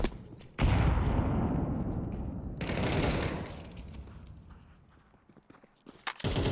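A thrown grenade goes off in a shooting video game: two loud, close blasts a couple of seconds apart, each trailing off into a rumbling decay, followed by softer scattered clicks.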